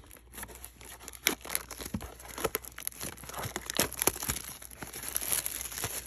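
Crinkling and tearing of a Panini 2022 Mosaic blaster box's plastic wrapper, a run of close, uneven crackles and short rips going on steadily for several seconds with no talking.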